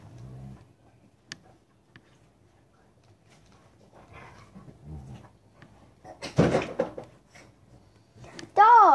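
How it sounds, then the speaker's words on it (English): A dog indoors during a morning routine gives short growls, whimpers and yips, ending in a louder, rising whine, with faint voices and household shuffling between the sounds. "Dogs!"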